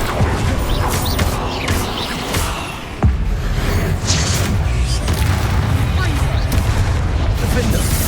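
Bombarda explosion spell cast in the Hogwarts Legacy video game, with a sharp blast around the middle standing out from a dense, continuous wash of loud spell-combat noise.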